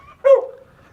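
A rescued dog named Major gives a single sharp bark with a whimpering tail, close by and clear, followed by near-quiet.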